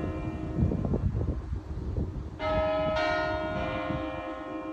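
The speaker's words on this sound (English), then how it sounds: "the bells just went off and they are the coolest sounding church bells" Church bells ring out clearly near Lago di Braies in the Dolomites, Italy, their sustained tones striking in overlapping strokes over outdoor background rumble.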